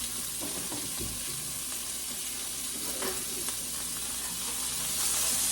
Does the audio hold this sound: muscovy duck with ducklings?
no